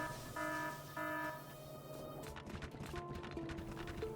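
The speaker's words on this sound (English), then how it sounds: "despite the alarm still going off" A Factorio game alarm repeating as short tonal beeps, fairly quiet and steady over a busy bed of in-game machinery noise.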